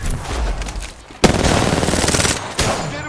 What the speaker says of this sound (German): Ich werde beschossen, Freunde!